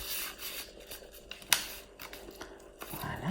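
Scissors cut a sheet of paper into a square, making quiet close snips and rustling paper with one sharper crisp snip partway through.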